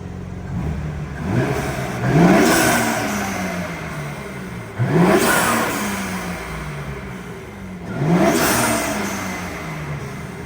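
A BMW G80 M3 Competition engine with front-mount intakes, in comfort mode, revs up three times, each rise climbing sharply then falling back to idle, loud and close.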